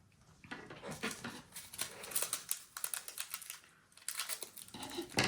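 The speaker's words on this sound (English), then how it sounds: "It's raining real bad here" Heavy rain patters steadily and densely, a close crackling downpour with rising and falling bursts and no talk over it.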